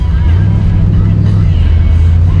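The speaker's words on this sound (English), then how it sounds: "it sounds like an Evinrude boat motor, just like ba-dee, ba-dee, ba-dee, ba-dee" A loud, close Camaro engine with FiTech fuel injection and a throttle stumble idles roughly with a low, uneven chugging like an Evinrude outboard motor. It runs continuously with no pauses.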